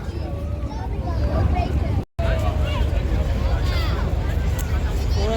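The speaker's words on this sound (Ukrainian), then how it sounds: "подивіться, як прибуває такий от огромніший катер чи паром" A large ferry arrives at the Rotterdam waterfront amid a steady wash of wind, water and engine rumble, with crowd babble and people talking throughout; one brief dropout near the middle.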